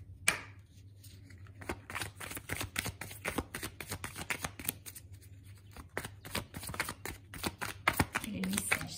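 Tarot cards are shuffled and drawn by hand, a close, soft riffling and flicking of card stock in irregular bursts that grows busier toward the end, with a faint room hum underneath.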